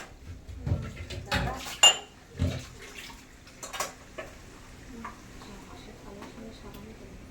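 Plates and metal dishes being scrubbed and washed in a home kitchen, with scattered clanks and knocks, the loudest near the start, then softer clatter over faint background.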